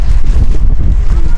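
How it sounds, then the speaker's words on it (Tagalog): Strong wind buffets the microphone in loud, low rumbling gusts that continue throughout. "Medyo malakas yung hangin."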